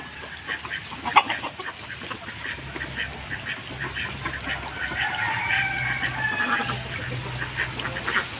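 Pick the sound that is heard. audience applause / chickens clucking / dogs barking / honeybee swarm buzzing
chickens clucking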